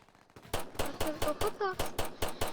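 Rapid pistol shots in the Roblox shooter Fortline, about ten sharp cracks in quick succession, loud and close, with a voice talking over them.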